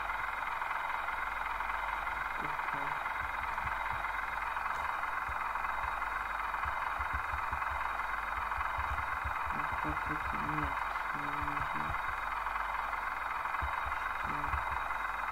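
Simulated MTZ-892 tractor engine from Farming Simulator 2015 drones steadily with a constant buzzing hum throughout, while a voice talks intermittently underneath.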